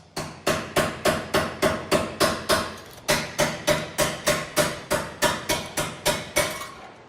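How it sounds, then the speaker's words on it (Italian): Hand hammer cold-forging soft sheet iron into a Sardinian cowbell, about twenty sharp, evenly spaced metallic blows in two steady runs, close and loud with ringing decay, no talk. "poi si prende il martello e si comincia la lavorazione"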